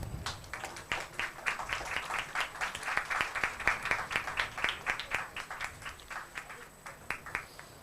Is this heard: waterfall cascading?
no